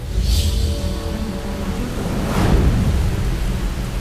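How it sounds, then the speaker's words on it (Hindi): Steady heavy rain with a low rumble of thunder rolling underneath, continuous and enveloping, during a typhoon in Japan. "जापान में एक शक्तिशाली तूफान आया।"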